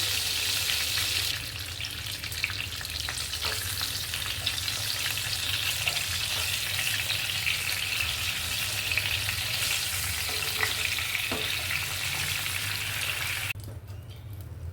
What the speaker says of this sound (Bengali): বেগুনটাকে হালকা করে ভেজে নিতে হবে